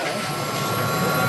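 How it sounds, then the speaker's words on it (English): A helicopter heard as a steady, loud rotor and engine roar, continuous and close throughout the brief moment, with no speech. "We heard the helicopter."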